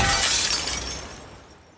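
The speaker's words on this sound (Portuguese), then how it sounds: "Só deu barulho quando a gente abriu os... quebrou os vidros." Glass windows shattering in The Last of Us Part II, a single bright, crashing break that sprays high tinkling debris and then decays away over under two seconds.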